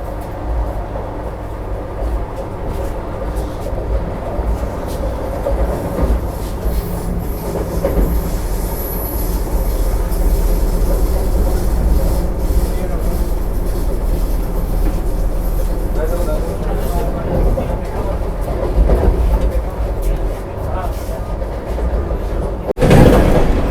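Howrah–Patna Vande Bharat Express running on rails, heard from inside the train as a continuous loud rumble with wheel clatter and occasional squeals over the whole ride.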